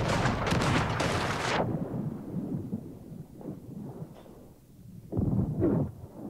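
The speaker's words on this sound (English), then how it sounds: "I hear cannons whizzing" Heavy booming cannon fire in the video game Sea of Thieves, a loud rumbling burst at the start followed by quieter distant thuds and another boom.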